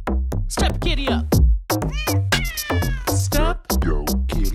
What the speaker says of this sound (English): Are you gonna meow or not?